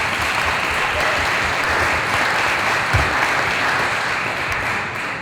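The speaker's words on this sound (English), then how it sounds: "Let's give her a round of applause." Sustained audience applause fills a community conversation event hosted by a minority health disparities research center, a dense steady wash of clapping at even volume throughout without speech.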